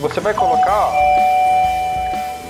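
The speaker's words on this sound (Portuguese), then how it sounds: "E esse é o barulho da campainha que tá." A BlitzWolf wireless battery-free doorbell chime rings indoors, a clear sustained tone that follows a person talking, close and fairly loud, fading slowly after the voice stops.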